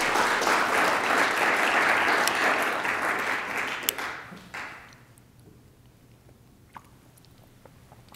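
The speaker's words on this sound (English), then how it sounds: "So please give them another round of applause." Applause from an audience at a poetry reading and arts dialogue, dense and loud for about four seconds, then tapering off into a quiet room with a few scattered claps.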